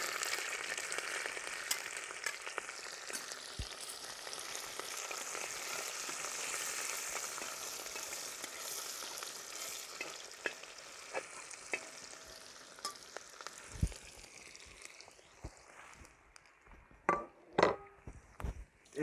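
Ginger, green chili and garlic sizzle steadily in hot oil for pork fry, a dense crackling hiss that thins toward the end, broken by sharp clinks and stirring knocks of a utensil against the pan.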